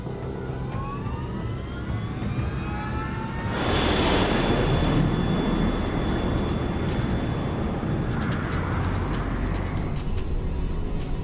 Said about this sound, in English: LAM 470, you are cleared for takeoff.